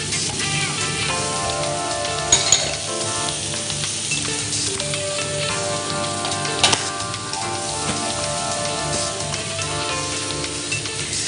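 Shrimp frying in a pan for a pasta dish, giving a steady, loud sizzle throughout with a few brief clinks of a utensil.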